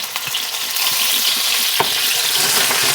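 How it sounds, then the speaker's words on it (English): Vegetables sauteing in olive oil with oregano, a loud, close, continuous sizzle with a few light stirring clicks and no speech. "And just saute them down"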